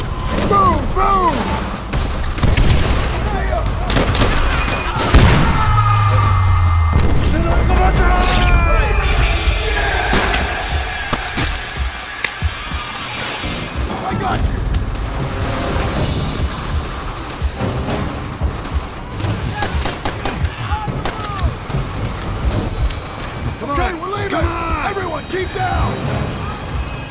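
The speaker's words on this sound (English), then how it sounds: "Charges are ready to blow!" Explosive charges detonate in the Call of Duty: World at War raid on Makin Island, with several heavy booms and crashes amid gunfire while soldiers shout over the battle.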